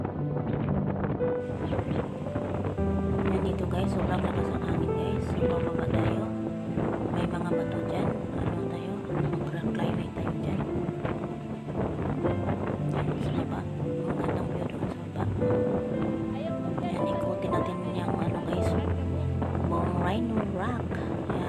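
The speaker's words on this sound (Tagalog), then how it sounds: "Kasi sa sobrang hangin, magkapapadpad tayo sa hangin, masyadong hangin." Strong wind roars across the open rock at Rhino Rock, Hong Kong, blasting steadily into the microphone for the whole stretch, with faint voices buried under the gusts.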